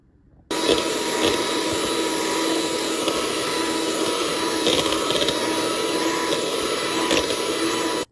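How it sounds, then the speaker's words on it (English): An electric stand or handheld mixer whirs continuously after a sudden start, softening butter for a white cake batter, with a steady loud motor drone and no talking. "With a standalone mixer or a handheld mixer, you want to mix the butter for about a minute until it's softened."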